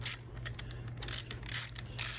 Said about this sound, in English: So now I can take my 9/16, take that bolt out of there